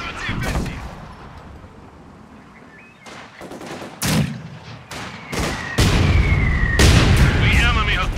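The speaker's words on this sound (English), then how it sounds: "Sector under attack. Taking fire!" Gunfire and artillery from Company of Heroes 2 hammer away in repeated loud blasts and bursts of shots that grow denser and heavier toward the end, with whistling shells and a voice heard among them.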